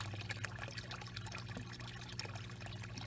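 Pond water trickling and pouring into buckets during pond winterizing, a soft continuous watery splashing and dribbling, quiet and close with no talking.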